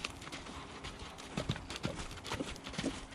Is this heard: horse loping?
yes